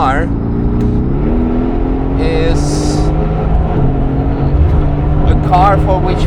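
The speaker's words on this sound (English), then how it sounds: "The AMG GT" A Mercedes-AMG GT R race car driving on a track, its engine droning and shifting pitch through gear changes, with a voice talking over it.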